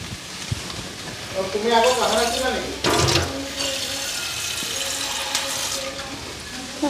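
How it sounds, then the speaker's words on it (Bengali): Water is drained off a pot of cooked rice in a home kitchen, a steady splashing pour running through the whole stretch, loud and close, with a brief knock partway through. "ভাতের জলটা নামাই নিলাম"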